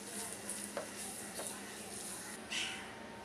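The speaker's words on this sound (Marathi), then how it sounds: "आणि छान असं मिक्स करणार आहोत" A spoon stirs and mixes a paneer filling for a sandwich in a bowl, soft scraping and light clinks over a quiet steady background hiss, no speech.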